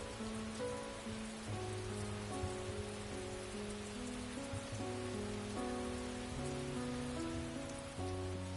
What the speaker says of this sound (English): It was a rainy day.